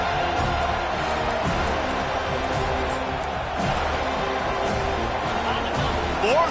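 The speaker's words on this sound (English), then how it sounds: "this crowd is making it miserable on this offense" A Georgia Tech college football stadium crowd roars in a broad, sustained wash of noise, with a rising whoop near the end and a commentator talking over it.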